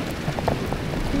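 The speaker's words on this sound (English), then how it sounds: "It rained a lot. It never stopped raining." Heavy rain pours down in a city, a dense continuous hiss of drops striking surfaces, steady and close throughout a brief moment.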